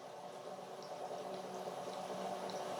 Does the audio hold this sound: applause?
no